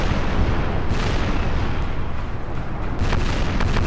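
Warship cannons firing in the Napoleon Total War naval battle game, a dense continuous rumble of booms rolling together loud and close, with sharper cracks near the end and no talk.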